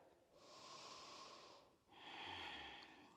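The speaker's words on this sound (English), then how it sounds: "Breathing here." Two slow, deep breaths during a yoga warm-up, a long airy inhale followed by a long exhale, close and soft, with no speech.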